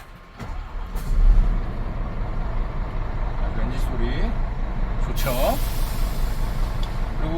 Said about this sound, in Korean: 그리고 보이시면 엔진 소리 한번 들어보세요.